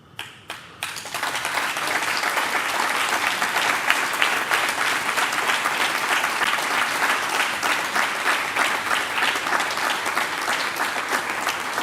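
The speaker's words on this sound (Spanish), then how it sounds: "Y otro gran aplauso a Crea Visual" A crowd breaks into sustained applause at a crime-novel award ceremony in Cartagena, starting with a few isolated claps before swelling into loud, continuous clapping that carries on for the rest of the moment.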